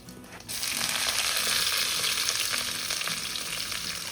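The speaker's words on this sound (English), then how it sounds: "For the tadka, I am using jeera, hing, a few bay leaves, one whole red chili, and a star anise." A tadka of cumin, asafoetida, bay leaves, a whole red chili and star anise hits hot oil and bursts into a loud, close sizzle after a brief quiet start, then crackles steadily on its own.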